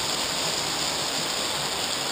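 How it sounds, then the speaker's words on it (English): A waterfall pours down a waterway into the Hoosac Tunnel, making a loud, constant rushing roar with no pauses. "waterfall waterway here that runs down."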